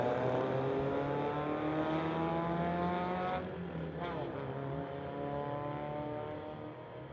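A 2018 Dodge and a Mazda drag race down a strip at a street legal event, two engines roaring loud and steady with rising harmonic whine, then easing as they pull away.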